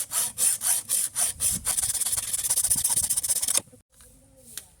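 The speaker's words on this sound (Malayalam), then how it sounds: "അപ്പോൾ നമുക്കത് കട്ട് ചെയ്തെടുക്കാം." A saw cuts steadily through a hard coconut shell to open it up, giving rhythmic, close rasping strokes that stop abruptly near the end, leaving a brief quiet with a faint scrape.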